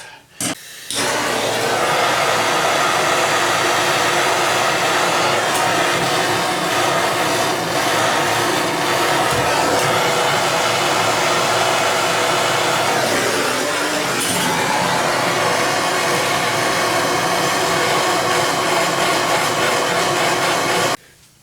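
A heat gun blows a steady, loud whooshing hiss onto a stuck bathroom sink drain pipe, running continuously for about twenty seconds before cutting off abruptly.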